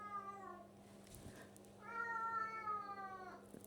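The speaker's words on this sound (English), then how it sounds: "That is a cat, by the way." A cat gives two long, drawn-out meows with an unusually loud, wailing tone, close by, against a steady low hum in a quiet indoor room.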